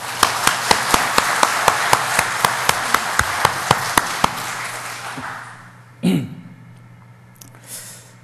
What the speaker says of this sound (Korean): 크게 박수 한번 치겠습니다